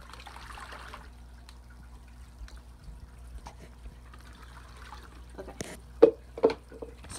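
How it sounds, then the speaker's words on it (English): Water from a fish tank is poured from a cup into a plastic bag, giving a few brief splashes and trickles near the end after quiet background hum. "Pour it in here."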